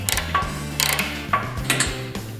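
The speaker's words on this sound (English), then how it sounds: "To tighten down, you need a 3/4 inch socket and probably an extension just to give you a little bit of" A ratchet with a 3/4 inch socket and extension tightening a bolt on a Jeep JK Wrangler shield carrier, clicking in four quick, close, loud bursts as the handle swings back and forth, with no talk.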